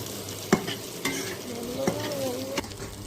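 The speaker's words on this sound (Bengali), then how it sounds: "এবার ভালোভাবে নেড়ে চেড়ে ভেজে নেব।" Pasta and vegetables frying in a pan while being stirred, with a close, continuous sizzle broken by four or five distinct spatula scrapes and knocks at a loose, uneven rhythm.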